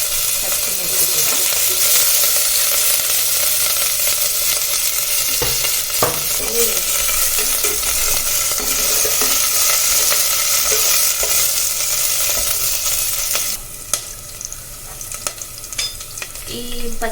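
Green chilies and ginger fry in hot oil in a pan with a loud, steady sizzle close by, broken now and then by stirring scrapes, and the hiss eases slightly near the end.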